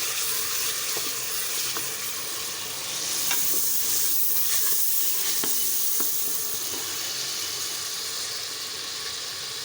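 Onions and spices sizzle steadily in hot oil for a mung and masoor dal, with occasional scrapes and knocks of stirring over a continuous close hiss, no voices.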